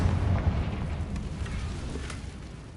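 The Confringo fire spell from the Hogwarts Legacy video game bursts in a short, muffled, low explosive rumble that fades over a few seconds, fairly quiet and without speech.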